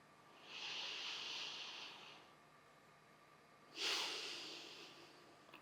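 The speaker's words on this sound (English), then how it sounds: "Back to that breathing." Slow, deliberate breaths during a seated mindful-movement breathing exercise: a long, airy inhale, a pause, then a second breath with a sharper start, close and fairly quiet, with no talking.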